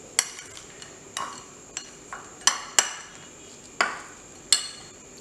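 A spoon knocks and clinks against a bowl while sugar powder and peanuts are mixed, giving sharp, separate taps spaced irregularly, each ringing briefly, with quiet between them.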